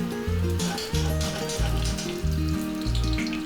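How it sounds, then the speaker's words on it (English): Two tablespoons of ghee (clarified butter) sizzle steadily in a hot pan, a soft continuous frying hiss beneath louder background music. "Then in a hot pan, add 2 tablespoons ghee or clarified butter."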